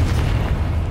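Confringo spell blast in Hogwarts Legacy, a dense rumbling boom, loud and close, filling the brief moment with no speech.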